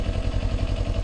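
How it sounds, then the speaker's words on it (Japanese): Kawasaki Ninja 400 motorcycle idling quietly while stopped on a touring ride, a soft low steady engine pulse with even rhythmic beats throughout, close and alone. "忍者400ってエンジン音静かですね。"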